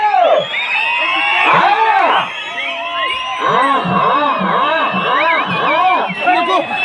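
A dense crowd of many voices shouts and whoops continuously at a bullock-pair race in Kothakota, rising and falling in overlapping waves of cheering that fill the whole stretch.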